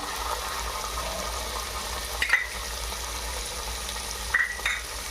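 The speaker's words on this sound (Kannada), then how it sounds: "ಸ್ವಲ್ಪ ಫ್ರೈ ಮಾಡೋದು ಇದೇ ಶುಂಠಿ ಬೆಳ್ಳುಳ್ಳಿ ಪೇಸ್ಟ್ ಹಾಕೊಳತ್ತೀನಿ ರೀ" Green chillies and ginger garlic paste frying in a pan for vegetable pulao, a steady close sizzle with two brief scraping stirs, no talk.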